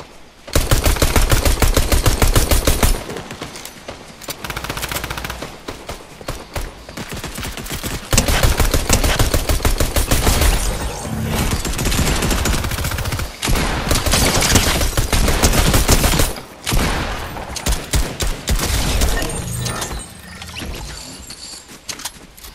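Video game gunfire in Fortnite: long bursts of rapid, loud automatic shots that fill most of the stretch, broken by short pauses and a few single cracks, with no talk.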